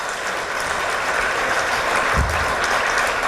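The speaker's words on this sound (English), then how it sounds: "Won't you give that a round of applause?" A conference audience at a global forum applauds: a thick, even wash of many hands clapping continues throughout, with no voices over it.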